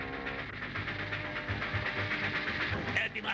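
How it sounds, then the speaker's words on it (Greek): A cartoon train, from a Lucky Luke episode, rolls into a station with a steady rumbling clatter and a hissing wash that stays loud and continuous throughout. "Το τρένο ήρθε ακριβώς την ώρα του."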